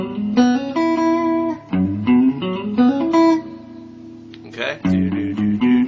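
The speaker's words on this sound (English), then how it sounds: "And you're just going to hammer them on." An electric guitar plays quick chromatic hammer-on notes in short bursts, each phrase climbing by half steps and separated by brief pauses, close and fairly loud.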